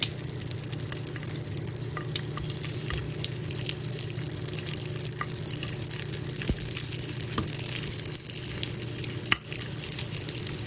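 Squid and dried danggit fish fry in a pan with dense, continuous crackling sizzle and spattering oil, steady and close throughout.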